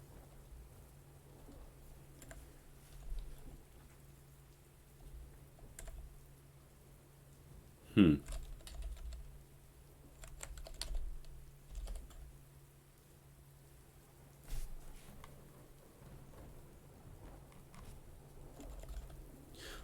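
Quiet, sparse clicks of typing on a computer keyboard come in short bursts between pauses, heard up close with low talk now and then and one sharper knock.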